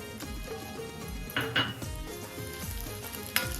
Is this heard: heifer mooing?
no